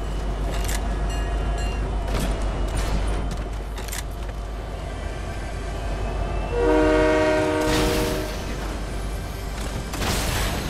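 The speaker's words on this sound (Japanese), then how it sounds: "列車が来た。" A Fortnite train rolls in with a loud sustained horn blast midway, rumbling rail noise and clatter running throughout over ambient game sounds.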